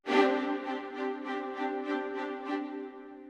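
A Spitfire Symphonic Motions orchestral patch plays an 8th-note normale figure: a sustained chord pulsing in even eighth-note repetitions, moderately loud and alone, fading with a short tail at the end.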